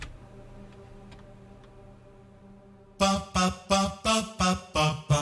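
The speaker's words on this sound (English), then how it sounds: "That's how I made this bass sound. I'll show you one more time what this sounds like." A quiet sustained tone gives way to a punchy layered halftime FM synth bass pattern, about eight loud rhythmic hits with a bright, layered top, playing alone.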